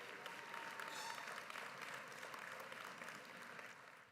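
Audience applause at a high school graduation ceremony honoring students enlisting in the armed forces, a steady, fairly faint wash of many hands clapping from a distance that holds for the whole stretch without a break.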